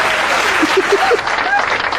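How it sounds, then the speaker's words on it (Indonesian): An audience applauds at a Christian gathering, a continuous wash of clapping with a few faint voices and brief tones mixed in. "Tepuk tangan buat Tuhan."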